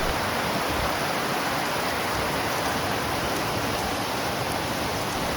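Steady broadband rain falling outdoors during a monsoon shower, a continuous even hiss with dense patter and no pauses or voices.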